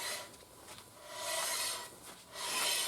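Rasping, scraping rub from a BMW 650i brake rotor turned slowly by hand after replacement, with the caliper re-tightened and the pedal pumped; the rough swishes swell and fade in an even cycle, close by and moderately loud, with no talking.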